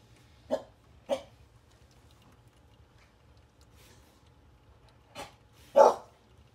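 A few short barks from a dog somewhere off in another room, two close together, then a pause before two more, faint over a low hum.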